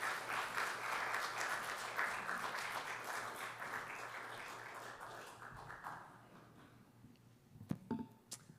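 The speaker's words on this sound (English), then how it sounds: "let's give them a nice round of applause and welcome them" Applause at a recital welcomes the performers, a broad round of clapping from the audience that gradually fades over several seconds, followed by a few faint knocks and shuffles.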